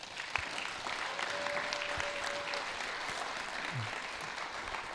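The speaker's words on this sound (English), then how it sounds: "Everyone give him a round of applause." Audience applause at a lawn care business event, steady and moderately loud clapping from a crowd that continues throughout.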